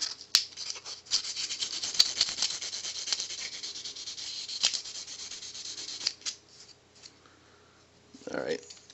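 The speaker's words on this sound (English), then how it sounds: "The sandpaper just takes only the smallest amount of grime off." Sandpaper rubs grime off the contacts of an NES game cartridge in quick, scratchy back-and-forth strokes that break off into short rubs and a pause near the end.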